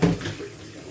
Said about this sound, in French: sous un filet d'eau froide